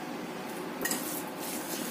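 A spoon stirring garlic and seasonings in a bowl, soft scraping and clinking of utensil against the dish, quiet and continuous with one brief louder clink.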